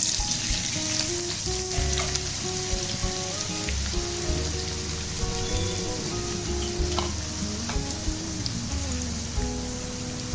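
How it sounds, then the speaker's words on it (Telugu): Onions frying in oil for Hyderabadi chicken dum biryani, a dense, steady crackling sizzle that sounds like rain on a surface, close and continuous throughout with occasional faint stirring and no talking. "ఇప్పుడు ఆనియన్స్ వేస్తున్నాను."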